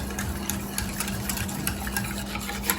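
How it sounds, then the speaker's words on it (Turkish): Egg-based cream is stirred steadily in a pot on the stove as it cooks toward a boil, giving a continuous scraping, swishing texture with small regular clicks of the utensil against the pot. "karıştırmayı ihmal etmeden kaynayana kadar pişiriyorum."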